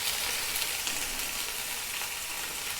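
Sliced onion and green chili frying in a pan while a mushroom roast is being made, producing an even, dense sizzle heard close and alone, with no speech.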